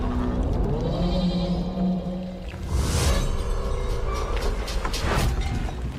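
A sheep bleats in a video game trailer, a wavering cry heard early over a dense bed of music and rumbling effects, followed by further trailer sound layers.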